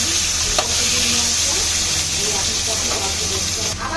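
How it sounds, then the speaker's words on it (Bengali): A hilsa fish head frying in hot oil with tempered spices sizzles loudly and continuously, with light stirring scrapes in the pan, close and steady from start to finish. "তারপরে আমি ইলিশ মাছের মাথাটা এর মধ্যে দিয়ে দেবো"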